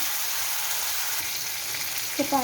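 Tomatoes sautéing in a pan for cabbage curry, a soft steady sizzle heard close, with a brief clatter near the end.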